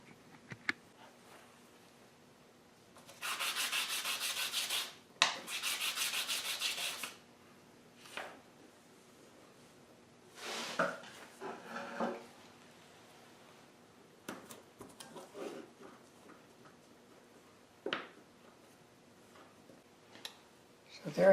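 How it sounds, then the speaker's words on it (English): Light hand sanding of small wooden wedge segments: several short bursts of soft, rasping rubbing separated by quiet pauses, with faint taps and scrapes between them. "I'll take these wedges over now and give them a light sand to get rid of the fuzzies and the burrs"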